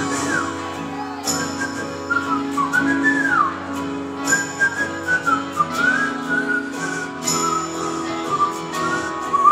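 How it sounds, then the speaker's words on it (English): A person whistles a cheerful melody alone, the sustained tune rising and falling in pitch with brief pauses and a few sharp accents, close and fairly loud. "You know when you feel good, you just start whistling?"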